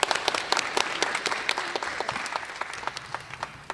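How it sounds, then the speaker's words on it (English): An audience at a high school class of 2021 graduation ceremony breaks into a round of applause, a dense patter of many clapping hands that fades gradually across a few seconds with no voices over it. "Round of applause."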